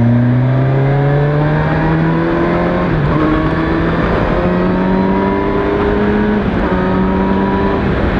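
A Kawasaki Versys 1000 SE motorcycle accelerating hard, its engine note climbing steadily through each gear with brief dips at two smooth shifts, loud and close under wind noise.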